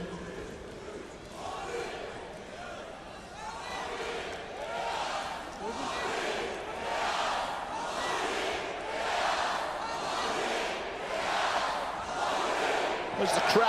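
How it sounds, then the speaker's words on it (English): Large indoor basketball arena crowd at a EuroCup game roaring in swelling waves, noise building and falling repeatedly, with a sharp bang at the very end. "As the crowd lifts the volume too"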